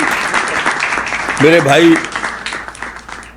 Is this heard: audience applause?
yes